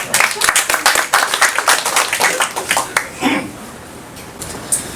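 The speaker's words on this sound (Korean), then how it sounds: "야, 이 박수 한번 칩시다." Audience at a lecture in a Busan training institute breaks into rapid hand clapping, loud and close for about three seconds before tapering off, with a voice briefly heard as the applause fades.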